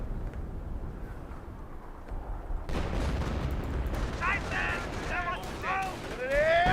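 An M2 mortar fires in the Company of Heroes strategy game, dense bursts of battle noise and booming shots rising under a commentator's voice.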